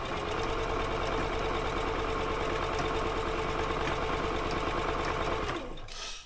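A home sewing machine runs steadily while stitching stretchy knit fabric, a loud, continuous rapid mechanical whir that stops abruptly near the end.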